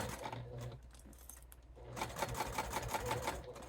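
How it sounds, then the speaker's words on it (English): A sewing machine back stitches a bifold wallet, running in a quick mechanical rattle, pausing briefly and then resuming in a steady run of close, rapid needle strokes. "I'm gonna back stitch here"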